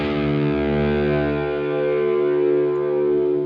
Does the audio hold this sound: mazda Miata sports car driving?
no